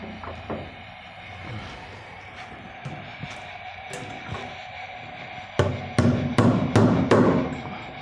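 Hard steel nail hammered during repair of a Westinghouse freezer, with sheet aluminium nearby: scattered light taps at first, then a run of five or six loud, sharp strikes close by toward the end.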